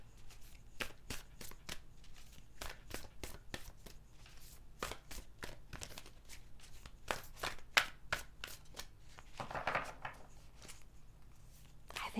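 Oracle cards being shuffled by hand at close range, a series of quiet, crisp riffles and slaps in irregular bursts with brief pauses between them and no talking.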